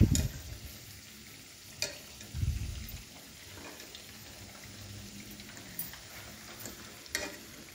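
Fish-stuffed cabbage rolls fry in a pan with a soft continuous sizzle, broken by a few louder scrapes and clicks as they are turned and stirred, close by and with no talk.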